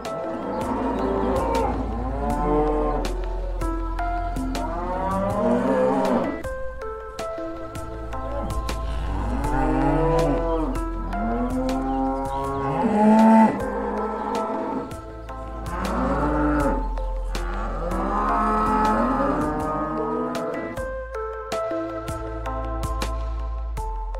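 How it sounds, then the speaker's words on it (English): A cow moos repeatedly, several long, loud, drawn-out calls with pauses between, close and clear with no talk over them. "It's a cow."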